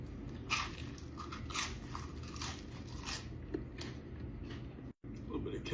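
Crunchy fried onion rings dipped in cheese sauce are bitten up close, giving several loud crisp crunches and softer chewing over a low room hum.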